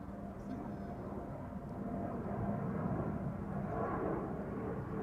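A jet airliner departs Amsterdam Schiphol Airport during parallel runway operations, its broad engine roar rumbling steadily and swelling slightly as it climbs, heard from a distance.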